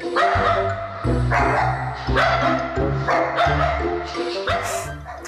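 Several dogs bark loudly and repeatedly in overlapping bursts, with a few higher yips mixed in, close and continuous throughout.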